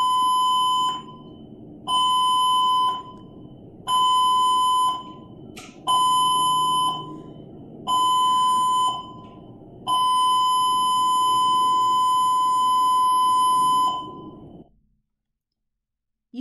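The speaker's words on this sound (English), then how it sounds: "crew drills and crew emergency alarms." A cruise ship's crew emergency alarm sounds in loud, evenly spaced electronic tone bursts of about a second each, repeating six times before a longer sustained blast cuts off to silence.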